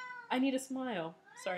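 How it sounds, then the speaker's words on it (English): A house cat meows clearly and close by, a few rising and falling cries in quick succession, with a person speaking at the same time. "that's my cat"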